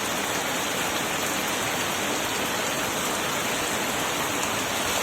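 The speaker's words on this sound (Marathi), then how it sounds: "किती जोरात पाऊस पडतो" Heavy rain pours steadily in a dense, unbroken roar, loud and close, with no voices.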